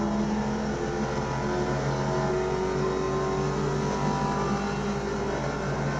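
A 2005 Ford GT mod in the racing game AMS2 accelerating, with a loud, steady engine drone and a rising whine, close and continuous with no talk over it.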